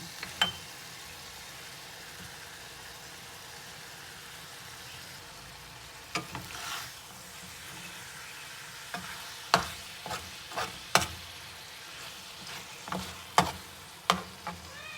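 Eggplant stir-fried with pork in shrimp paste sizzles softly in a pan, broken by a series of sharp spatula scrapes and clacks that come quicker toward the end.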